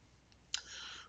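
A single crisp computer mouse click at close range, followed by a soft, steady hiss, with no voices.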